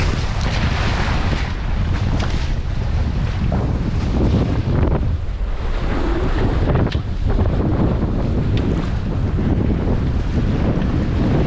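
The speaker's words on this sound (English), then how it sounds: "There's surf waves." Surf waves wash around a sailing Tornado catamaran, a continuous loud rush of water heavily mixed with strong wind buffeting the microphone, with no speech.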